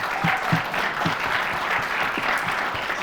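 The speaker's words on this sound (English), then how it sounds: "How about a nice round of applause for the Boylan Titans now?" Steady, dense applause from a quiz-show audience cheering the Boylan Titans team, continuous and fairly close throughout with no speech over it.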